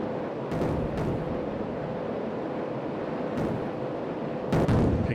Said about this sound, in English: Picking up AAA from the city now.